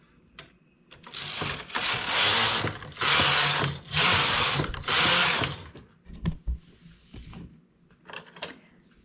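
A domestic knitting machine's carriage sweeps back and forth across the needle bed, making about four loud rasping, whirring passes about a second each, followed by quieter clicks and clacks of the mechanism.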